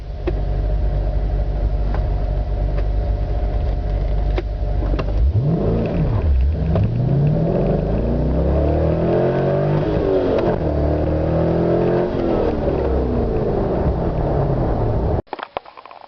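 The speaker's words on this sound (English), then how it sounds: "here's a quick demo on how much easier it is to launch a Corvette" A Corvette launches hard from a standstill. The engine revs loudly and climbs steadily through the gears for about fifteen seconds, continuous and close, with no talk.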